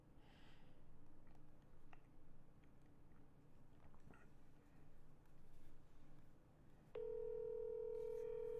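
A steady telephone dial tone sounds while a call is being placed, switching on abruptly and holding loud and unbroken after quieter handling noises and faint background sound.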